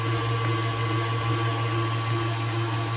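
An electric mixer beats New York style cheesecake batter at a raised speed, giving a steady, loud motor whir and hum that holds constant without a break and with no talking.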